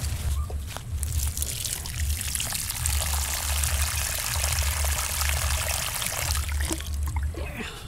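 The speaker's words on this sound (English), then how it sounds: "I'm gonna water the papaya that my husband planted" Water pours steadily from a container onto a young papaya plant on a farm, a continuous close splashing trickle over a low rumbling hum, with no one talking.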